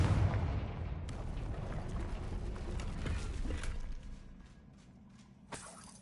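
A Confringo fire spell bursts in Hogwarts Legacy, a loud rumbling blast with sharp crackling snaps that sustains for several seconds before dying down, followed by a late crack near the end.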